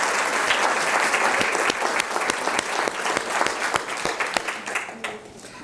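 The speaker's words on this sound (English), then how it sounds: "I think we should give ourselves a round of applause." Hospital staff at a town meeting give a round of applause, a full burst of clapping that stays strong before thinning out toward the end.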